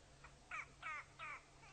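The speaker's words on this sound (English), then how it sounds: "And of course a grey lory, go-away bird, making its own noise." A grey go-away bird (grey lory) gives a series of four harsh, nasal calls from a ranch setting in South Africa, the first short and faint, then three louder, drawn-out squawks at a steady pace over quiet background noise.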